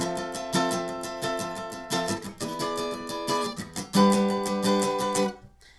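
Bright, ringing guitar notes from a song picked high on the neck in quick strummed bursts, close and clear, ending with a sudden stop.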